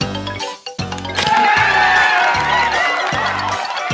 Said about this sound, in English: Spooky applause this time.